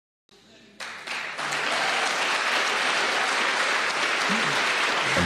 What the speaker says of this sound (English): And there was a hesitation before the applause there,